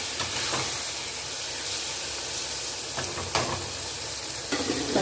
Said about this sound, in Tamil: தக்காளி சேர்த்து நல்லா வதக்கி கொடுங்க.